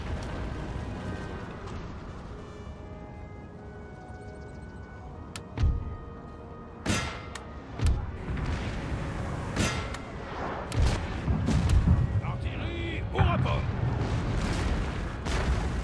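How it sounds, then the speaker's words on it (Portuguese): Cannon artillery fire in Napoleon: Total War, several loud booming shots spaced irregularly over a steady battle ambience, with someone talking throughout. "O mais legal é que o canhão tá pegando nas árvores."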